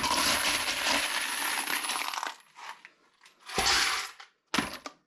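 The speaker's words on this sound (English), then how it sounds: "we're going to fill up the hopper with a couple pieces of brass" A scoop of brass cartridge cases pours into the hopper of a reloading machine, a loud metallic clinking cascade for about two seconds followed by a few shorter bursts of rattling brass.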